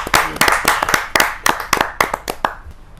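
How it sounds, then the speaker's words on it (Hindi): At a Hindi kavi sammelan, a small audience claps in a sharp, uneven run of distinct hand claps, fairly close, that gradually thin out and fade toward the end. "जोरदार तालियों के साथ"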